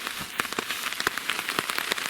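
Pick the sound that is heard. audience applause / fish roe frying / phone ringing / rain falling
rain falling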